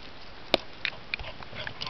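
Two white dogs sniffing around outdoors by a barbecue hut, with short soft snuffling bursts and one sharper sound, fairly close and quiet, with no talk.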